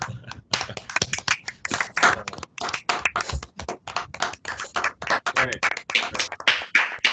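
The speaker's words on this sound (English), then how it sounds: "Can we just get that round of applause for everyone as well," An awards ceremony audience claps in scattered, uneven bursts, individual hand claps distinct and close rather than a dense roar, with a brief spoken word partway through.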